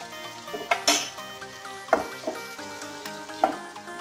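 Tomatoes with a ginger, garlic and coriander-leaf paste sizzling in a pan for potato curry, stirred with a metal spoon. A steady frying hiss runs under sharp, irregular clinks and scrapes of the spoon against the pan.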